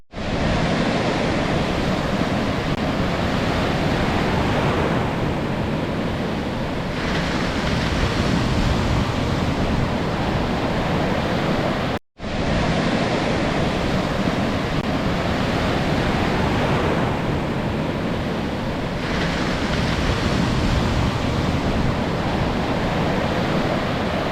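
Sea waves crash on the shore at Mullivaikkal in Mullaitivu. The surf booms steadily and loudly, dense and continuous, with wind roaring across the microphone throughout and no voices.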